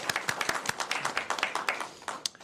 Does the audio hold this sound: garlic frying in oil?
no